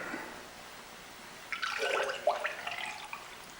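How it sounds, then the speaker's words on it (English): Glaze poured into a handmade clay pot, heard as a short burst of liquid splashing and gurgling after a quiet start, close and fairly soft. "carefully pouring the glaze in"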